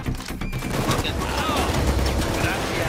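Sniper gunfire cracks out in a Payday 2 heist, a dense, loud clatter of shots filling the whole moment over constant game noise, with players shouting over it.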